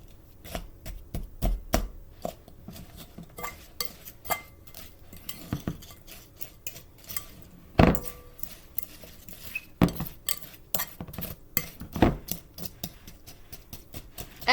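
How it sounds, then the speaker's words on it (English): Brown sugar and mustard being chopped and mixed in a bowl, with irregular sharp taps and clinks of a utensil against the bowl, close and fairly quiet, no talk. "I'm just going to chop this, break up the brown sugar a little. And then just mix it up."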